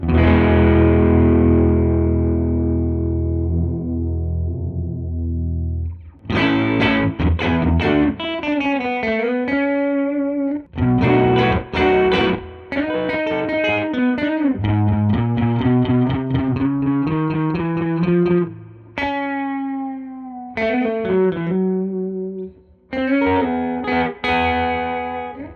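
An electric guitar played through an OBNE Black Fountain Stereo effects pedal gives a long decaying chord, then a run of picked notes and short phrases with a dirty, modulated, echoing tone, loud and close with no talking.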